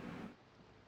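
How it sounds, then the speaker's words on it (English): Rain in the video game Project Zomboid, a brief burst of dense hissing downpour that quickly drops to a softer, steady patter. "Alright, it's really raining out there."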